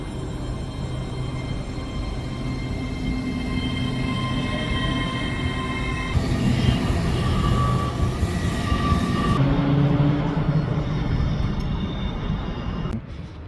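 Steady rumble of a train running along the tracks, a constant mechanical drone with a brief rise in noise midway, no voices.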